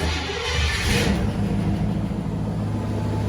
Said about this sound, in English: Look how well this car still runs.